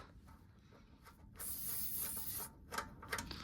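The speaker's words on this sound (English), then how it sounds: "So I'll spray some leak detector on there as well" A sustained hiss of aerosol spray lasting about a second, close up, followed by a few short sputtering bursts.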